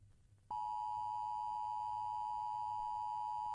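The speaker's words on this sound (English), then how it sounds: "we're going to talk about the infamous emergency service broadcast." A steady, loud electronic alert tone of an emergency broadcast in analog horror, one unbroken pitch held for about three seconds after a brief faint hiss, then cutting off abruptly.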